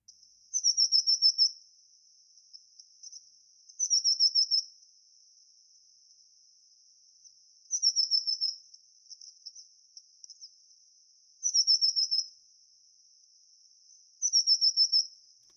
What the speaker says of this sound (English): we have only somber tits singing in this recording, this filter signal